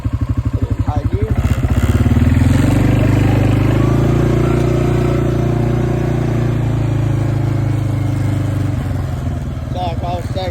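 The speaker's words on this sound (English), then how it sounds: "Put it in high gear." A Suzuki quad 500 ATV engine revving up and holding a loud, steady drone in high gear, close by, with its exhaust note rising early and then staying even throughout.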